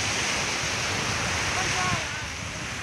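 Steady broadband wash of surf on a beach in Goa, a continuous roar of breaking waves with some wind noise, easing slightly toward the end.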